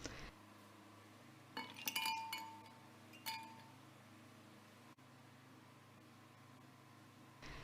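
Ice cubes drop into a jug holding apple, banana and milk for a smoothie, giving a few faint glassy clinks in a quick cluster and then one more clink, in an otherwise quiet room.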